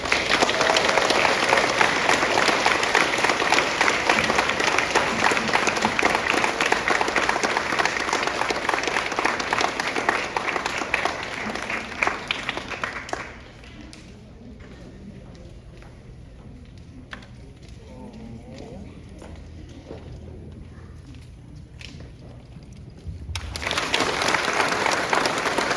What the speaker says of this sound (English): Please give a round of applause for my student and my friend